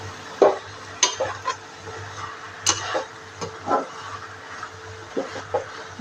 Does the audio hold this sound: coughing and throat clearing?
no